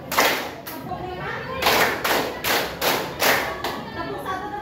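A class of students clap their hands in short rhythmic bursts during a counting game, several loud group claps spaced through the moment, with children's voices and a teacher's instructions mixed in.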